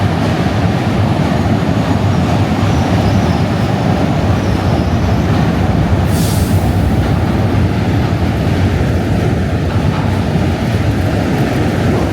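A subway train crossing the Manhattan Bridge in New York makes a loud, continuous roar and rumble with a brief high screech, very close and steady throughout, with no talking.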